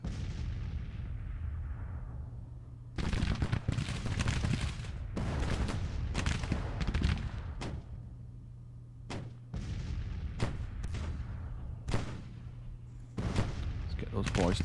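Cannon fire from Williams guns on a Civil War battlefield in a strategy game, a series of sharp booming bursts spread across the stretch with steady low battle rumble between shots.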